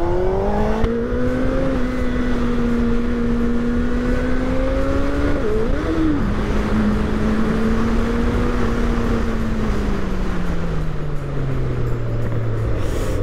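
A Suzuki Hayabusa motorcycle engine drones loudly and steadily, its pitch rising and dipping as it revs before sliding lower toward the end, with no talking.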